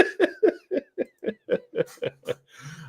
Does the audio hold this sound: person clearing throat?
yes